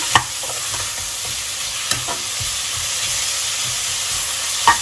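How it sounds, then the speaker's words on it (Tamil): Ginger garlic paste sautéing in hot oil while making prawn biryani, a steady close sizzle with a few sharp stirring clinks and scrapes of the spoon in the pan, no voices. "இது நல்லா ஒரு நிமிஷம் எண்ணெயில் வதக்கிக்கலாம்"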